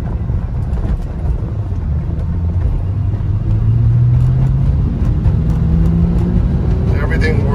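Interior drive in a 2000 Qvale Mangusta with a Ford Mustang Cobra engine, a steady low engine drone with wind buffeting and road rumble, the pitch climbing slightly midway, with someone talking over it.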